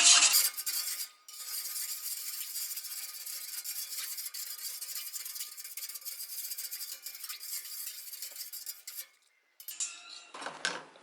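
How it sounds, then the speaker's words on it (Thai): Salt being stirred into water in a pot to dissolve it for pickling bamboo shoots, a steady close scraping and swishing with clinking of a utensil against the container, running nearly continuously with a brief pause near the end. "ค้นใส่น้ำเกลือละลายก่อนนะคะ"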